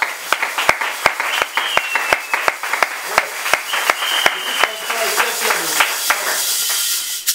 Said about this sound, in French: Acclamez encore pour vous-même.